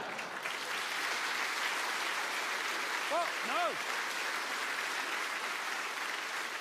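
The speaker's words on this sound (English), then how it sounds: "Please, don't clap." A studio audience claps steadily and evenly throughout, broad and continuous, while a voice briefly exclaims over the applause.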